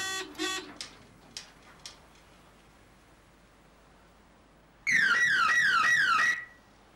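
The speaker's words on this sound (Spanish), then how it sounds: "Sistemas Z le da la bienvenida a su exposición de sistemas de alarma" An alarm system at an alarm exhibition starts with a few short electronic beeps, then after a pause breaks into a loud, close, warbling siren that lasts about a second and a half before cutting off.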